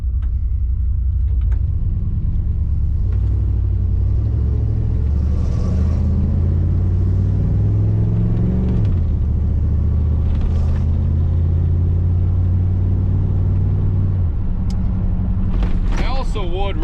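A van engine with an uneven, sporadic idle rumbles close by as it is driven into a driveway, its low drone dipping and wavering, with a voice speaking over it near the end.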